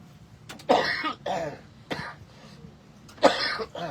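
Four harsh coughs come close together, each short and raspy, with brief pauses between them, near and fairly loud.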